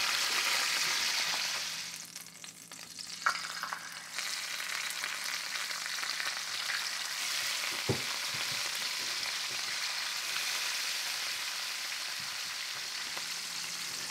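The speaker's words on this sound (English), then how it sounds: "we're gonna pull them off and cook the last fish." Fish fillets frying in a pan after a catch, a steady close sizzle that runs throughout with a few clinks and scrapes from turning the pieces.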